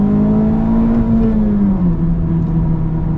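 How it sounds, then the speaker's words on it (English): A Honda Civic Type R, first-year model, revs hard and steadily right up close, a strong droning engine tone holding high before easing slightly downward, with a rough whirring edge of tires being burned off. "let's just kind of burn the tires off a little bit"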